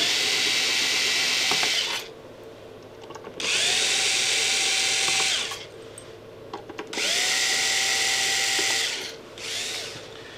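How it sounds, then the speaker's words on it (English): Power screwdriver backing screws out of an Amada Astro robotic press brake controller computer from 1995, three separate whirring bursts of a couple of seconds each, close and loud, with brief pauses between. "We just need our screwdriver. Pull out four screws."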